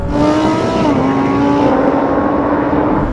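Three performance cars, a Lamborghini Huracan, an Audi R8 and a Nissan GT-R, launch side by side in a drag race. Loud, sustained engine roar climbs steadily through the gears and stays close and continuous throughout.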